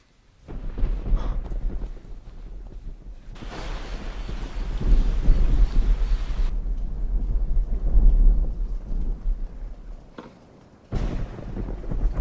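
A thunderstorm sweeps over a horse ranch with steady rain and deep rumbling thunder. A loud, sustained roll swells through the middle and another thunderclap breaks out near the end.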